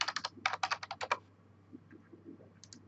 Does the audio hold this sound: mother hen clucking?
no